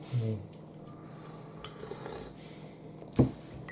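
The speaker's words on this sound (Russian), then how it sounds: "Вот ложка, Вася, бери." A spoon and dishes clink softly: a brief rattle at the start, a light tap midway, and a sharper clink near the end, in a quiet room.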